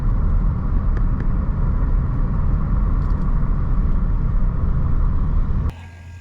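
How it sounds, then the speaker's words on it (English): Steady traffic rumble from cars passing on a road near a flooded area in Thailand, a continuous low roar close by that drops abruptly to a quieter hum near the end. "lots of cars around here."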